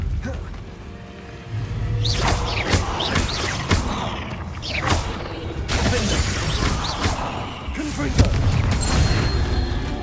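Fire spell blasts in Hogwarts Legacy, a run of loud booming bursts and crackling impacts roughly every second, with a person talking over the action.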